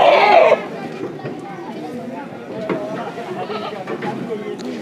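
A Beetal breed goat lets out one loud, close bleat at the start at a livestock goat market in Longowal, followed by a steady murmur of crowd chatter and faint animal sounds.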